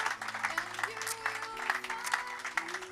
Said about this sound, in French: Vraiment, on peut applaudir aussi.